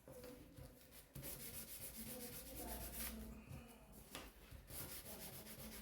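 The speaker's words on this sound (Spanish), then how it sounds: "estamos en el lijado" Wood being sanded by hand in a craft class, a soft, steady rubbing and scraping that repeats in strokes, fairly quiet and close, with no voices over it.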